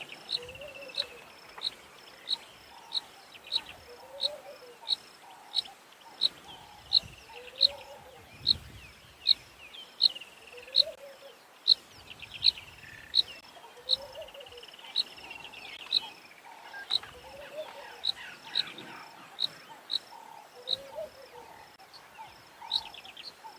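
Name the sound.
bird calls and insects at sunset on safari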